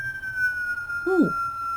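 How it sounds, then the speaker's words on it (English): An outdoor alarm siren sounds as a steady high tone held for nearly two seconds, with a brief louder swooping wail near the end, heard from a distance in the background. "there's an alarm going on"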